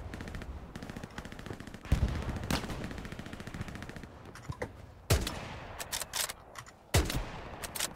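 Bursts of rifle and machine-gun fire in Hell Let Loose, a World War II shooter, with sharp close shots punctuating a steady, more distant rattle of firing.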